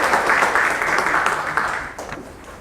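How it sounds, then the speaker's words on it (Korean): A crowd applauds steadily for a couple of seconds, the clapping dense and moderately loud before tapering off slightly. "큰 박수로 맞아주시면 감사하겠습니다"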